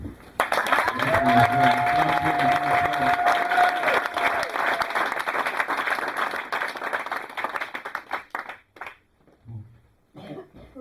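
A young church audience in Créteil bursts into loud applause that gradually thins into scattered claps, with a brief sustained tone near the start and a cough at the end.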